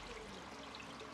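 Coconut milk, a thinner second pressing, poured into a simmering duck curry (duck mappas), giving a short, soft, steady liquid stream with no talking.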